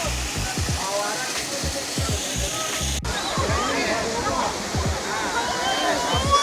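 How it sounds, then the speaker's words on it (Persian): A waterfall in a mountain stream pours with a continuous, close rushing roar, water sloshing and splashing throughout, with voices talking over it. "چند تا آبشار خیلی زیبا داره."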